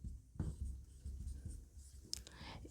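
Pen scratching on paper as a math solution is written out for a Class 10 arithmetic progression exercise, soft irregular strokes close by, with a brief louder scrape near the end and no talking.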